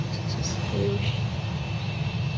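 Steady drone of an airplane engine in the Roblox game Project Flight, continuous and moderately loud with throttle being cut while landing.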